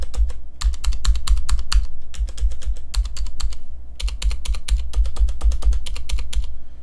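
Typing on a KBP V60 60% keyboard with Cherry MX Blue switches and ABS keycaps, a loud, close, rapid clicky patter in two bursts with a short pause between.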